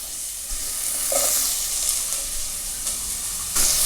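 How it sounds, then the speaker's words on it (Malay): Capsicum and onion sautéing in a pan for a pasta dish, with a steady loud sizzle and a few scraping stirs near at hand, no voice over it. "Seterusnya kita masukkan iaitu capsicum, iaitu sayuran, kita nak tumis sedikit."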